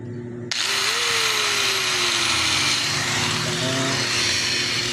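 Electric grinder switching on abruptly after a brief pause and running at full speed with a high, steady whine and slight pitch shifts, loud and close, tested during an electric pan repair.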